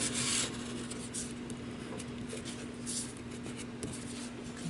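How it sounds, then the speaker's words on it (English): Paper being creased with a bone folder while assembling a punch-board candy box, a steady close rubbing rasp that scrapes on without pause, a slightly brighter stroke at the very start. "I'll go ahead and use the bone folder"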